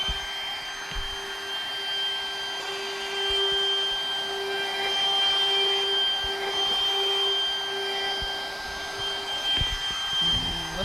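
A small portable trim router with a bearing-guided roundover bit runs steadily as it rounds over wood edges while building a duck nesting box, giving a constant high, whining drone at close range.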